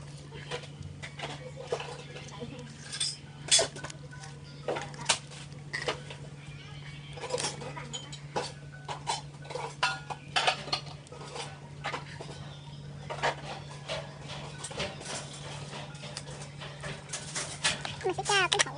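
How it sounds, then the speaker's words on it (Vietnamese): Slime solution being stirred briefly in a container, with scattered soft wet clicks and patters over a steady background hum, with a voice talking at times. "Chỉ khuấy sơ thôi nha"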